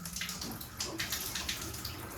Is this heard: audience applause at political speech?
no